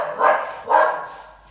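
A dog gives two close, loud barks about half a second apart, then falls quiet, heard through a headset microphone during a German-language podcast chat.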